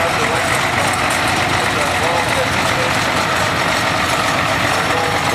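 A Case IH 560 front wheel assist diesel tractor engine idles with a steady, rough rumble at an outdoor tractor show, continuous and loud under ambient crowd noise and talk.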